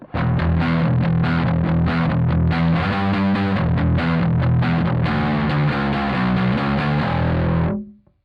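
A distorted bass guitar riff through a Kemper Profiler amp profile with no EQ plays continuously for several seconds, full and heavy in the low end, then cuts off abruptly.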